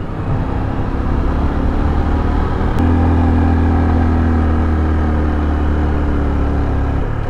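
A motorcycle engine labors steadily up a long, steep road, its loud, continuous drone holding close throughout with a brief shift in pitch partway through.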